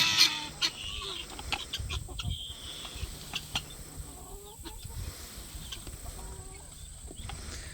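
Chickens and small guinea fowl cluck and chatter inside a wheeled chicken tractor on a multi-species farm, with scattered short calls and clucks, close by and moderately loud over a low outdoor hum, with no talk.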